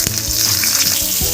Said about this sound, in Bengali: এবার আমি ইলিশ মাছের মুড়োটা নুন হলুদ দিয়ে মেখে রেখে সেটা তেলে ছেড়ে দেবো। এটা একটু ভাজা হবে।